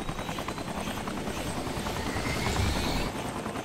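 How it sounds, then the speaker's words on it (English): A helicopter flies close by with a loud, steady thudding rotor roar that never lets up. A high whine rides on top of the noise, it swells slightly toward the end, and no one speaks. "Can't you get the helicopter the hell out of there?"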